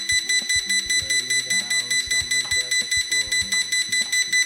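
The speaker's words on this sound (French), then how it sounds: "vous allez entendre un petit bip bip bip." A drone beeps rapidly and regularly after its button is pressed to reset the sensors, a loud, close, even pulse over a busier electronic tone pattern, with no talk.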